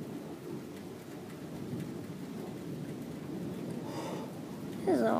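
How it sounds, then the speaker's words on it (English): Strong summer thunderstorm with steady heavy rain hissing throughout and rumbling thunder building toward the end, loud and enveloping. "This is one heck of a lightning show."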